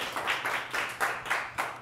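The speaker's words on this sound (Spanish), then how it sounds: "Un aplauso, por favor." Small group applauding diving medalists during a televised interview, a fairly close, rhythmic patter of hand claps with a light pulsing beat and no speech over it.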